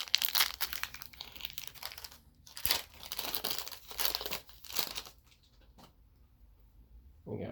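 Basketball card pack wrapper being torn open and crinkled, Donruss Optic blaster box pack: several bursts of close, loud foil crinkling and tearing, then quieter rustling and a final crinkle.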